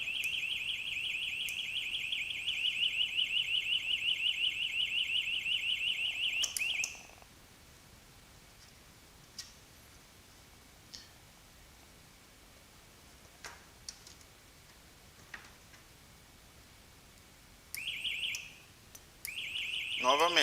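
An electric fence energizer's tamper alarm shrieks in a loud, steady high-pitched tone for several seconds, cuts off into near silence with scattered clicks, then starts again in short bursts.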